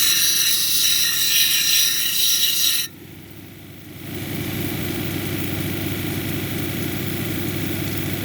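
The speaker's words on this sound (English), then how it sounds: "I'm I think I'm going to grind out a little bit more" A lapidary grinding wheel shapes a Paul Bunyan plume agate cabochon, giving a steady, close whirring grind with water hiss that cuts out briefly, then resumes as a lower, continuous drone.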